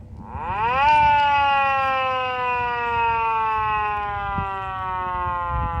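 A 3D-printed Federal Model 7 siren spins up in a rising wail, then holds a steady tone that slowly winds down, loud and close with a slight echo off steel.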